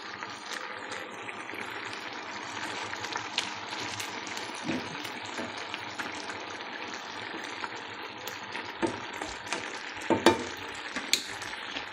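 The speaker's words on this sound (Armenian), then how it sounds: "տեսեք ոնց է եռում" Water boils in an uncovered pot in a home kitchen, giving a steady soft bubbling and sizzling with small crackles and pops, close but fairly quiet.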